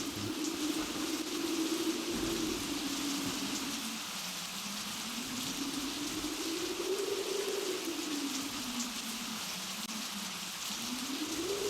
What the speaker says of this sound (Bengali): বৃষ্টি তো সহজে থামবে না।